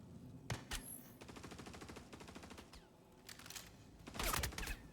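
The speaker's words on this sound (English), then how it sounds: "Yep, they're shooting all right." Video game gunfire crackles in rapid automatic bursts, with a sustained rattling stretch in the middle and sharper loud volleys near the end, all fairly faint.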